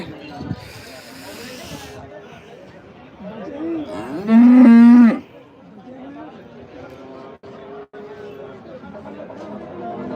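A cow gives a loud, drawn-out moo partway through at a livestock market in Dhanaula, while people talk and chatter nearby against a hissing, busy outdoor background.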